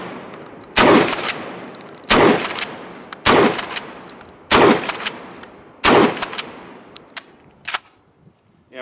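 A Kel-Tec KSG 12 gauge shotgun fires five loud, sharp blasts outdoors at a steady pace, each followed by a short echo and the clack of the pump action, then a few fainter clicks.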